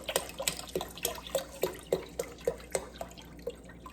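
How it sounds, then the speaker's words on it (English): Water running from a tap into a cooking pot partly filled with chicken broth for pozole verde, heard as a rapid series of close, distinct splashes and drips at a steady rhythm, with no talking. "so I am going to fill the rest with water"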